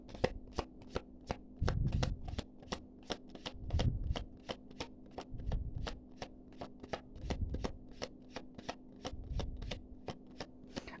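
Oracle cards are riffled and shuffled in a steady, rapid series of crisp flicks, with a few heavier rustling bursts as the deck is gathered, all close and clear.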